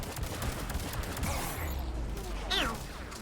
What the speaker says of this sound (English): I'm shooting a harvester with a pistol